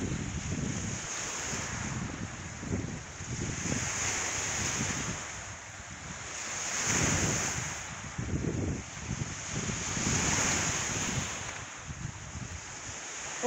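Stormy Black Sea surf pounds a cold, dirty beach in a steady roar that swells and ebbs, while a strong north wind buffets the microphone throughout.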